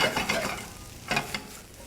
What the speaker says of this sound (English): So these mushrooms are cooking up. The tofu's getting a little browned up